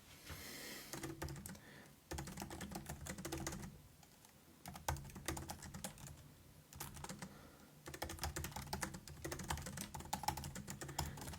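Steady typing on a computer keyboard while writing a project description, dense quick key clicks running continuously at close range with brief pauses, no talking.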